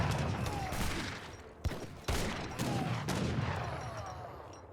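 Musket volleys crackle through an Age of Empires 3 battle between Japanese and French armies, with dense overlapping fusillades, a couple of sharper shots standing out, and faint voices mixed in.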